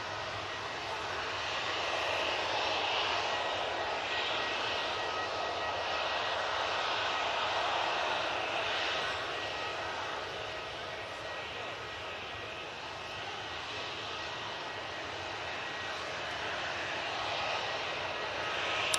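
An Emirates jet airliner on its departure roll, a steady broad engine roar held at moderate distance throughout, with voices talking over it.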